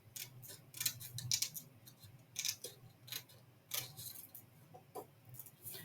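Scissors cut through paper in a series of soft, close snips and slides, spaced irregularly with quiet gaps between them.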